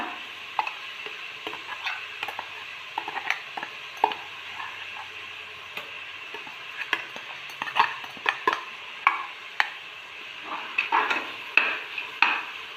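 A ginger, garlic, cinnamon, clove, cardamom and coriander paste is stirred in a pot for cooker egg biryani, with sporadic scrapes and clinks of a spoon against metal over a soft, quiet sizzle.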